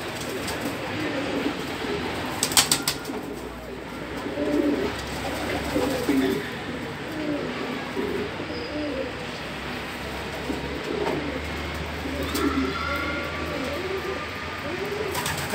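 Pigeons coo repeatedly in a loft, soft throaty phrases rising and falling under a steady background hum, with a few brief clatters and distant rumbles.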